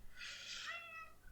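Mochi, a pet cat, lets out one drawn-out meow, fairly quiet and nearby, that rises and then trails off, with no voices over it.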